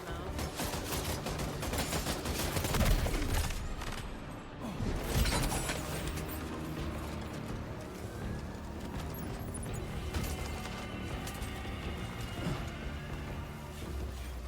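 Gunfire in the video game Death Stranding 2, with scattered sharp shots and impacts popping over a busy game soundscape at moderate loudness, two heavier blasts standing out early on, and no talk.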